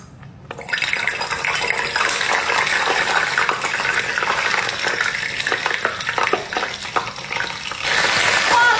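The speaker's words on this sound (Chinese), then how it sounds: "再炸一次大豆虫，咱们今天再炸一个" Big green caterpillars gathered from a vegetable garden are deep-fried in bubbling oil, producing a loud, dense, continuous crackle and sizzle that rises sharply after a quiet start and stays vigorous to the end, with no voices.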